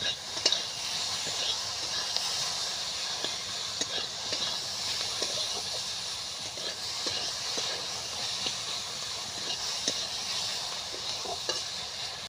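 Piring greens fry in oil without water, a constant close-up sizzling hiss punctuated by small clicks and taps of stirring.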